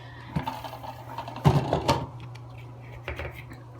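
A spin dryer whirs steadily as it spins wet, freshly scoured wool fleece, a constant low mechanical hum with a few knocks and clatters partway through.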